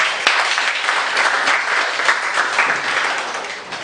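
Women in an audience at a dialogue in Makerere University's Senate Building clap together, a dense, sustained round of applause that holds steady for several seconds.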